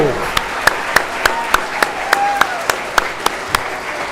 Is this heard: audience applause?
yes